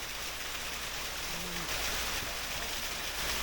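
Water rushes steadily at a small waterfall beside a road, a constant broad hiss and roar close by with no breaks.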